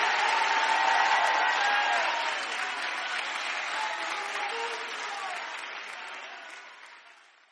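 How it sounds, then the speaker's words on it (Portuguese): Audience applause at a worship service, a dense sustained wash of clapping that stays loud for several seconds and then slowly fades, with faint voices mixed in. "Aplauda o Senhor aí, gente!"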